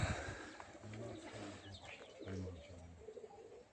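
Racing pigeons coo softly before release, with repeated low rounded calls coming in short phrases at close range and quiet background sound underneath.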